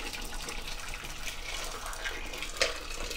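Boiling water poured into small glass jars to disinfect them, a soft continuous splashing gush at moderate distance with one brief clink near the end, and no speech.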